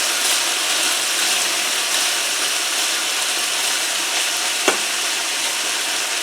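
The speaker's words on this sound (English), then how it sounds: "me already cooking them mushrooms, now have them pork chops in there, pork steaks" Pork chops and mushrooms frying together in a pan, a steady close sizzle with soft crackle and one sharp utensil knock near the end.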